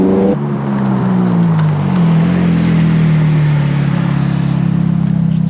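Ferrari 430 Scuderia exhaust while driving at low speed, a loud, close, continuous engine drone with a deep steady note that shifts pitch slightly as the car rolls on, with no talk over it.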